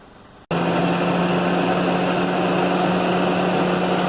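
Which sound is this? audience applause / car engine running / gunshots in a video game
car engine running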